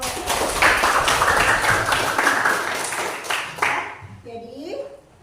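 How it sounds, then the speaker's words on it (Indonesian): Classroom audience applauding, a dense patter of clapping that fills the first few seconds under a teacher's voice, then fades out as speech continues. "tepuk tangan dulu"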